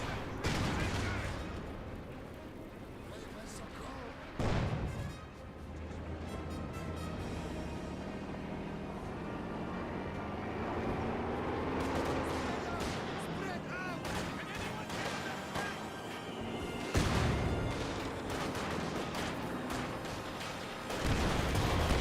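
Company of Heroes 2 battle with repeated gunfire bursts and grenade blasts, including loud sharp detonations around five, seventeen and twenty-one seconds, under continuous game commentary with a Panzer IV engaging enemy armor.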